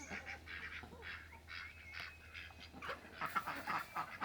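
Ducks quack and honk repeatedly as they are let out of their pen on a ranch in winter, a cluster of overlapping nasal calls at moderate distance, growing busier toward the end.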